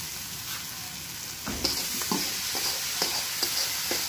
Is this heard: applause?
no